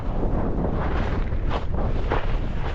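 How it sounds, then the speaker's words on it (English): Wind roars steadily across a snowy, freezing fell in the Lake District, buffeting the microphone with a loud, continuous rumble and gusty surges and no voices. "that wind's picked up"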